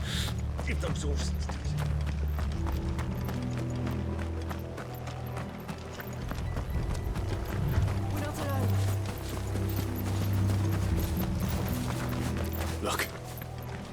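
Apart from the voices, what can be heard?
horses galloping in video game Final Fantasy XVI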